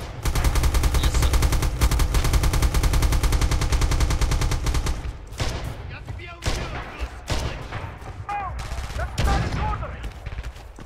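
Gunfire in Red Orchestra 2: a sustained burst of rapid automatic fire for several seconds, then scattered shots and battlefield noise, loud and close.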